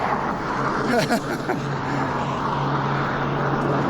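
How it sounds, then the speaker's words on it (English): Traffic on a busy road rolls past with a loud, broad roar, a vehicle sweeping by early on, then a steady hum of engines and tires. "Man, some of these truck cars are loud."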